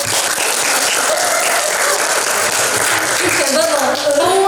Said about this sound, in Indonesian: Oke, good. Tepuk tangan.